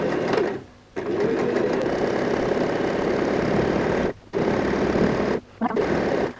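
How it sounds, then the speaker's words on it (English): Sewing machine stitching a half-inch seam on a fabric bag, running in steady loud bursts with three short pauses between runs, alone with no talk. "we're just going to go and sew a 1/2 inch stitch starting from the seam"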